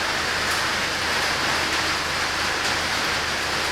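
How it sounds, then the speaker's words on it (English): Heavy rain from tropical system Barry pours down in a steady, dense hiss, loud and unbroken throughout. "I'm sorry about the rain. Tropical system Barry is coming through here right now."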